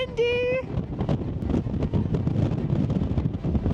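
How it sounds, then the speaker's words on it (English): Strong wind buffets the microphone on the summit of Humphreys Peak in Arizona, a loud, continuous roaring rush throughout, with a voice briefly heard over it at the start. "It's really windy!"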